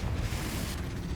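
Confringo spell explosion in the Hogwarts Legacy video game, a short, dense, rumbling blast with heavy low-end boom, fairly quiet and sustained across the brief moment.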